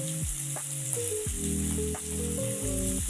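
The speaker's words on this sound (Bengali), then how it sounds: "রসুন কুচি, আদা কুচি, লঙ্কা কুচি এইগুলো সব ভালো করে ভেজে নেবেন।" Chopped garlic, ginger and green chili sizzle in hot oil with browned onions, a bright continuous frying hiss with light stirring scrapes, heard close and without talk.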